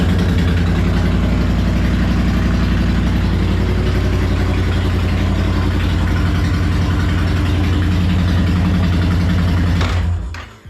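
A 2025 Honda Fury motorcycle engine idles loudly with a steady low putter for about ten seconds, then cuts off abruptly.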